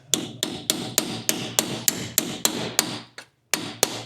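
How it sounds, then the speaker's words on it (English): A hammer strikes a car's brake drum, unserviced since 2015, in a steady series of about thirteen sharp, ringing taps, close and loud, with one short pause near the end. "give the drums a bit of a clap"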